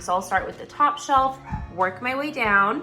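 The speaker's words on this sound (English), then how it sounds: "Oop, that's my dog." A dog barks in short yips behind a person talking steadily nearby; the barks are partly buried under the voice.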